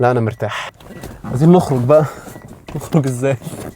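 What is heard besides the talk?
No distinct noise like a dog, phone or traffic.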